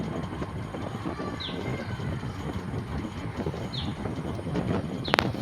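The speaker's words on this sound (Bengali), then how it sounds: "এই দেখুন আমাদের ট্রেনটা যাচ্ছে।" Train moving near Dalkhola station in India, a continuous rumbling clatter that holds steady throughout, with a few faint bird calls and a brief sharp click near the end.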